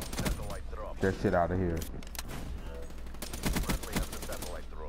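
Rapid bursts of automatic gunfire from Call of Duty: Black Ops 3 multiplayer, loud and repeated in clusters, with a voice talking over the shooting.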